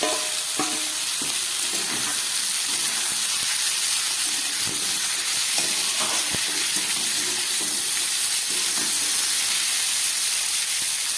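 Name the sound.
beans and potato added to fried garlic, onion, tomato, sizzling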